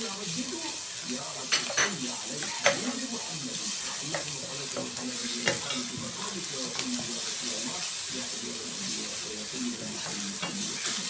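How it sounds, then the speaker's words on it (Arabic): Two garlic cloves frying with onion in a pan, a steady sizzle under irregular clinks and scrapes of a spoon stirring, mid-distance and moderate in level. "انزل بقى بفصين توم اهو"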